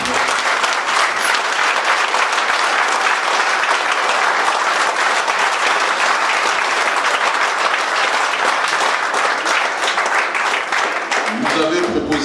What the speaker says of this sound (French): Je vous demande s'il vous plaît de les applaudir fortement.